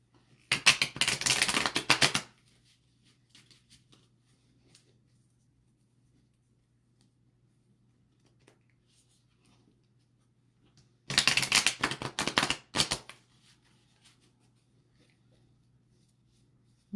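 A Magical Tarot card deck being shuffled in two separate bursts of brisk, close riffling and flicking, each about two seconds long, with near silence in between.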